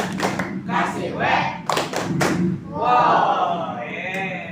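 Group rhythmic clapping in a tepuk wow clapping game during a university class session, with a few sharp bursts of claps followed by voices speaking and chanting together.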